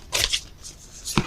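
Tarot cards are shuffled in two brief riffling bursts close to the microphone, followed by a soft tap as the deck settles.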